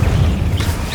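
A fire spell cast in Hogwarts Legacy, heard as one dense, loud, low-heavy whoosh and crackle that fills the whole short moment with no talk over it.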